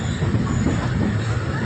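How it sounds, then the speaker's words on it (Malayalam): The Parasuram Express pulls into Eraniel railway station with a close, loud, continuous rumble of the train and faint background noise. "വണ്ടി ഇങ്ങനെ എറണിയൽ റെയിൽവേ സ്റ്റേഷനിലേക്ക് എത്തിയിരിക്കുകയാണ്"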